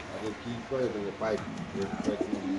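Pigeons coo in a cage at a pigeon farm where red racer pigeons are kept, soft repeated throaty calls close by, with voices in the background.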